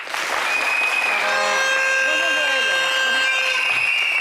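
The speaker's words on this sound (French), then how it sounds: "monsieur Thierry Joël, sous vos applaudissements." A studio audience applauds on a live sports talk show about the Africa Cup of Nations 2023, a steady loud clapping bed under sustained musical tones, with a voice speaking over it.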